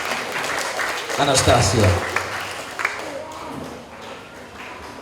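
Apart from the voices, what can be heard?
applause for Anastasia at school graduation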